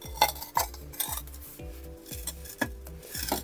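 Old ceramic plates and dishes are handled in an abandoned farmhouse, giving a series of light clinks and scraping knocks, roughly one every half second, close and fairly quiet.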